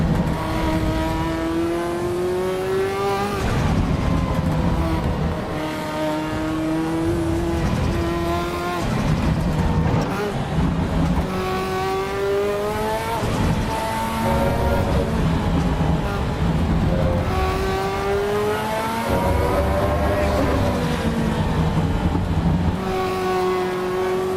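Race car engine screaming at high RPM in Assetto Corsa Evo, with repeated rising sweeps through the gears, each climb cut off by a shift and a brief dip before it winds up again, loud and steady throughout with no talk.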